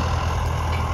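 A heavy tractor engine idles steadily with a loud, low rumble and no breaks, during hay baling in a pasture field.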